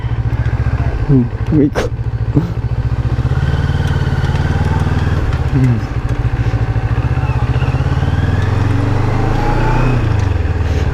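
Honda CB400 motorcycle engine running close by with a steady, throbbing hum that stays level throughout, while a rider talks briefly over it and a couple of short clatters break in.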